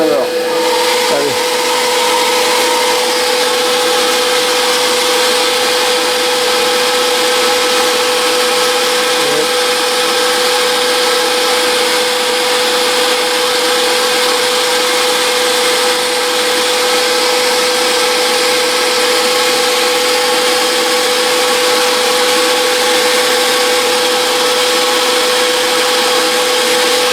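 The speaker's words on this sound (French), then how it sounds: "je vais mettre un petit coup de sèche-cheveux pour essayer de la faire sécher assez rapidement" A hair dryer blows continuously on a freshly treated part of a Jaguar E-Type, a loud, steady, unbroken airy roar with a constant whine throughout.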